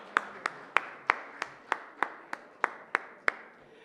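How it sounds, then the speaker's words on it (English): Sparse, evenly spaced hand claps at a literature festival panel session, about a dozen sharp claps in steady rhythm, faint and somewhat distant, with no talking. "A big round of applause for all the participants."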